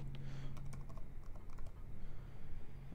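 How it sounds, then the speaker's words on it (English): Code being typed on a computer keyboard, a quiet run of irregular key clicks and taps with small pauses, alone and close by. "I'm going to type that in here."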